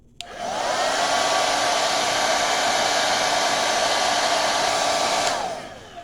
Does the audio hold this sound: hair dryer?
yes